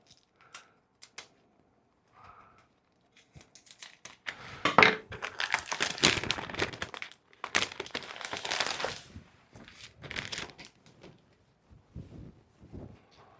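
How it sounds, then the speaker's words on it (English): A package seal is cut and the wrapping pulled off a copy of a manuscript, with crinkling and crackling plastic in loud, busy bursts after a few quiet clicks at the start. "Let's cut this seal."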